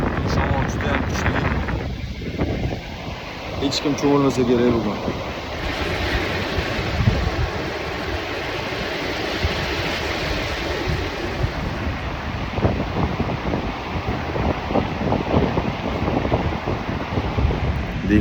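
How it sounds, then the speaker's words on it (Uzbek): Strong wind buffets the microphone at a seaside beach, a constant roaring rush with surf beneath it that runs the whole time, while someone talks over it. "Shamol juda ham kuchli."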